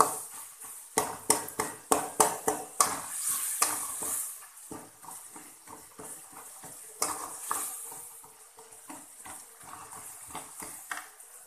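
A spoon stirs elephant foot yam curry in a cooking pot, sounding as a run of close, sharp scraping clacks against the pot at first, then softer, sparser stirring over a faint sizzle.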